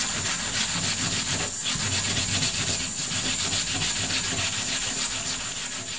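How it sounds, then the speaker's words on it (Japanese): A burdock root is scrubbed under water with a stiff scrub brush to remove dirt: close, continuous rhythmic rasping strokes without any talk. "ごぼうはたわしで洗って泥を落とします。"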